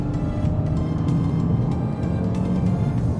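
A Toyota RAV4 in sport mode accelerating, its engine and gearbox producing a steady low droning rumble from inside the cabin, with no clear sense of gear changes across the stretch.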